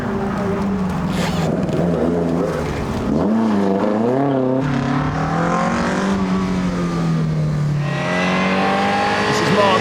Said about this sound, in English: with the 1600cc twin cam revving away a 5-speed gearbox